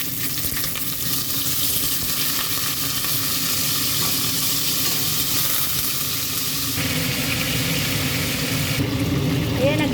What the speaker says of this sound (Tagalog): sa same kaldero, ipapry lang natin itong ating chicken